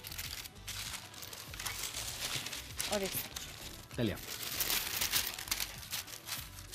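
Parchment paper handled and crinkled in a kitchen while Christmas biscuits are being prepared, giving repeated close crackling rustles in bursts, with brief speech in between.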